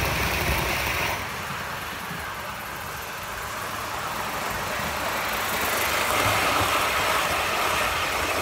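A Hornby live steam Mallard OO gauge model locomotive runs along its track. A steady mechanical rumble and hiss carries through, quieter for a stretch and then louder again, with no talking.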